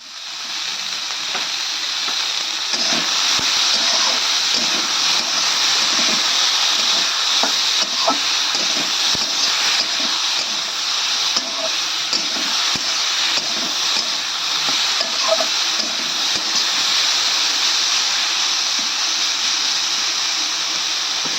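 Sliced bitter gourd with salt and turmeric sizzles steadily in a hot pan, a continuous close frying hiss with occasional stirring scrapes and no talk.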